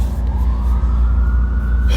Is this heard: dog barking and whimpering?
no